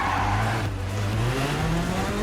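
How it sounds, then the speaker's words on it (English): Rally car in the EA WRC video game, its engine droning steadily while the tyres grip and squeal continuously through a corner at close range, loud and sustained with no talking. "I like that sound that you can hear the tyres really grip in"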